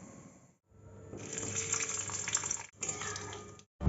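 Food fries in a pan on a home kitchen stove, giving a steady close sizzle that briefly drops out twice before resuming.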